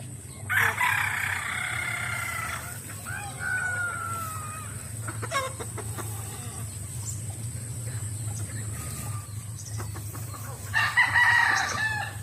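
Chickens cluck and a rooster crows loudly twice, once near the start and again at the end, over a steady low hum with some clattering in between.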